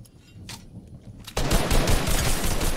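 Gunfire in a first-person shooter video game: after a couple of faint shots, a sudden dense burst of rapid automatic fire erupts loud and close, continuing steadily to the end.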